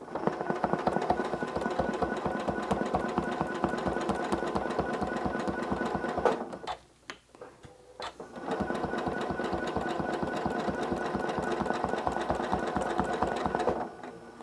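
Sewing machine ruler quilting a nine patch block, fast even needle stitching running steadily, pausing briefly around the midpoint with quiet handling noise before resuming at the same rapid rhythm.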